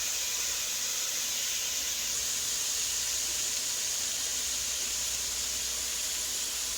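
Corn and peas sizzle in hot pans with garlic for a chicken and vegetable pot pie, a steady, even hiss that runs unbroken and fairly loud throughout with no talking.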